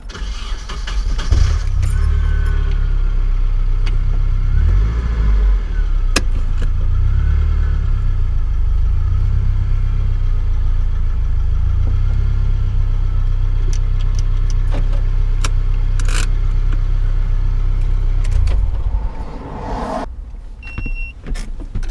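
A Nissan 240SX starts and runs while being backed up in neutral, a loud low engine rumble holding steady for most of the stretch before shutting off, with small clicks and rattles near the end.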